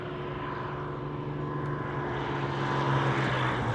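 A Hawker Hurricane warbird comes in to land on a grass airfield at an old-aircraft fly-in, its propeller engine droning steadily and growing a little louder toward the end.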